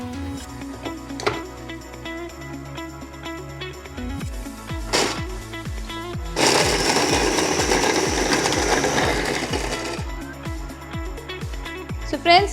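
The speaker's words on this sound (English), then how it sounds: "then we'll grind it" Electric kitchen grinder crushing small broken rusk pieces into powder, a loud steady whirring grind over several seconds amid rhythmic clattering mechanical noise.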